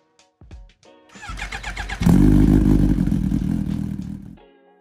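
A 2025 Triumph Thruxton Final Edition with a 1200cc parallel twin engine, heard close up: a brief starter whirr, then the engine catches and settles into a loud, throbbing idle and rev before cutting off.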